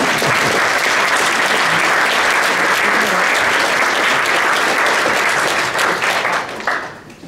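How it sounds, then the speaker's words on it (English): A big crowd applauds a speaker walking on stage at a startup community event, a loud dense roar of clapping that holds steady and then tapers off near the end. "he needs an extra applause"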